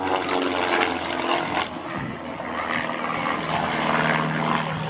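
A Pitts Special aerobatic biplane performs a solo display at Biggin Hill Airshow, its loud buzzing propeller engine surging and fading as it swoops and pulls through manoeuvres overhead.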